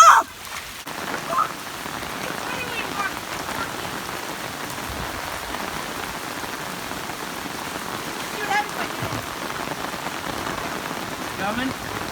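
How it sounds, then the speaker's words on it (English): Heavy rain pours steadily onto surfaces, a dense continuous hiss with pattering drops, loud and unbroken throughout, and a faint bird call comes early on. "No, I think it's too much rain."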